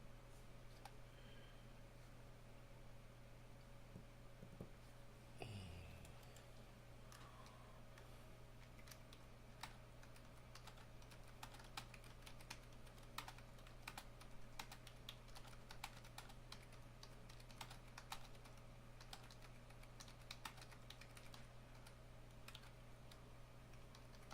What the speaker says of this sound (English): When you see me typing